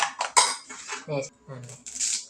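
Quick, close metallic clatter of a whisk beating eggs in a bowl, coming in short repeated bursts.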